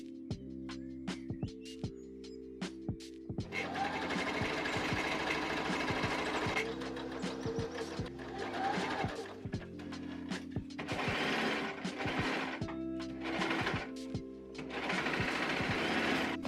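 A sewing machine stitches bedsheet fabric for a summer two-piece: a few slow single stitches first, then a long steady run of rapid mechanical whirring and clatter with brief pauses, close and alone.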